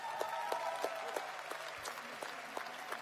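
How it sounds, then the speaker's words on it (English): Applause from a large audience of around 5,000 at a network marketing leadership event, a steady wash of many hands clapping with scattered sharper claps, sustained throughout. "can we give a round of applause for her, for Veronica?"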